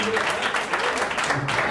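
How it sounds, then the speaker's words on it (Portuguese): An audience at a live hypnosis and magic stage show claps in a steady, dense patter that fills the room, with a voice talking over it. "uma salva de palmas pra nossa tradutora"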